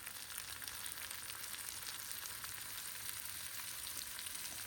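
Washed, drained cabbage fries in a pan for a cauliflower dish, a soft, even, continuous sizzle with faint crackles, fairly quiet and steady, no speech.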